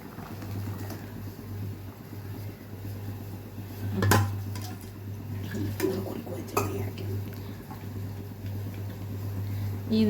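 Coconut being poured into a boiling anchovy fish curry, with pot and utensil clatters over a steady low hum of a burner or fan, a few sharp metallic knocks standing out, and a person speaking at times.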